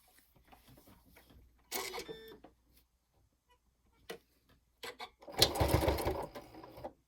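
A sewing machine stitches elastic onto the back of a fabric sleeping eye pad in two short bursts, a brief run followed by a slightly longer, louder one, with quiet handling between.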